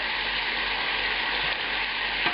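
Veal scallopini in a pan with a porcini, shallot, white wine and herb mixture added, giving a steady, loud close sizzle and fry with a faint scrape near the end, no voices.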